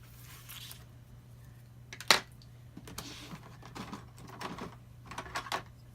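Scissors or a blade cutting a quarter-inch strip off card stock for a box card, a few crisp snips and scraping sounds close by, with one sharp louder cut near the start.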